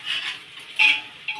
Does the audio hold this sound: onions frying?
yes